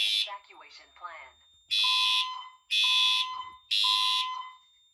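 A Firelite MS-5012 fire alarm system with Siemens and Edwards devices sounds during a test: three loud, evenly spaced blasts, each with a steady tone, after a brief spoken announcement.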